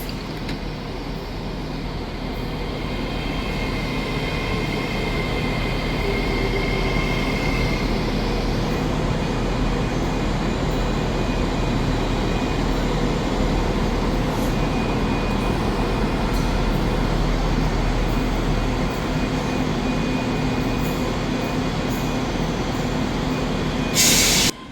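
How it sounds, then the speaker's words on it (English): LNER Class 801 and Class 800 trains running empty stock out of Edinburgh Waverley station, a steady rumbling rolling noise that holds through the whole stretch at fairly close range, with a brief louder burst at the end. "Departing out now is an LNER service on an ECS, which is 801, 101 and 800 205."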